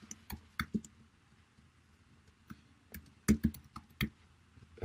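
Scattered mouse clicks and bursts of keyboard typing at a computer, sharp close taps coming in irregular clusters with quiet gaps between them.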